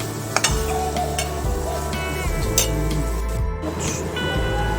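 A garam masala spice paste for prawn curry sizzles steadily in a hot pan while a spoon stirs and scrapes through it, with occasional clinks of metal against the pan.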